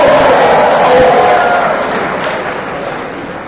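Lecture-hall students cheering and shouting together in a loud, dense crowd roar that swells at first and then gradually fades over a few seconds.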